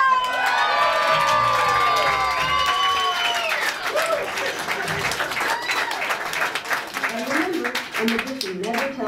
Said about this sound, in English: For the grand finish, fling open the fabric and receive your well-deserved applause.